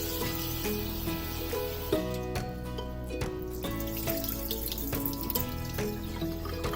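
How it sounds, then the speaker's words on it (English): Pasta rinsed under a running kitchen tap, a steady close stream of water splashing into a sink for several seconds with faint clinks, no speech. "First, we need to wash the pasta so it's not stinky."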